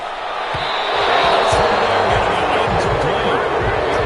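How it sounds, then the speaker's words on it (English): Football stadium crowd applauding its defense after a forced throw into coverage, a broad wash of clapping and cheering that swells and holds, with a commentator talking over it. "Some applause for the defense there."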